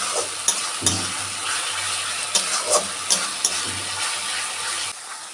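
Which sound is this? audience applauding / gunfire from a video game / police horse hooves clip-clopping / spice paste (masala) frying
spice paste (masala) frying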